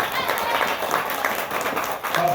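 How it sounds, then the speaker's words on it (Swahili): A classroom group claps for the game winners, a dense, steady patter of many hands held at an even level for the whole stretch, with children's voices mixed faintly beneath. "tujipigie makofi."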